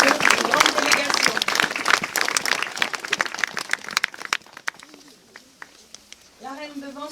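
A crowd at an outdoor ceremony in Vence gives loud, dense applause for the civil protection volunteers. It fades after a few seconds, and a voice then speaks over the quieter scene.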